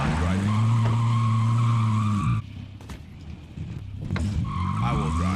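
Car skidding and tire squeal in the video game Call of Duty Warzone, loud strained engine tones cutting off into a scrape, then the engine whine returns near the end.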